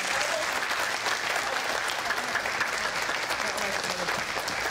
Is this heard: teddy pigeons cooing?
no